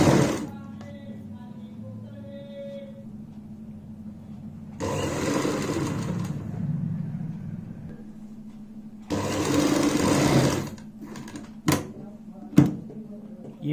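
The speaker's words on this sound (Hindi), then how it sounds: "यहां से हमें सिलाई की शुरुआत करनी है, बुकरम के साथ साथ लगाएंगे सिलाई।" A home sewing machine stitches a fabric sleeve together with buckram in two sustained runs, close and steady, with quiet stretches and a few sharp handling clicks between them, under soft background hum.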